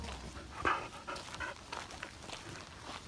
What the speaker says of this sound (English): Hear the breathing.